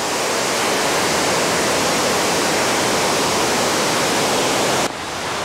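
The Stroppia waterfalls, among the tallest in Italy, give a loud, constant roar of falling water that fills the air without a break and dips slightly at the very end.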